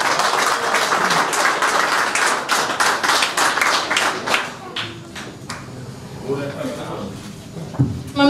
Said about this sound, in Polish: będą wielkie brawa, wielkie brawa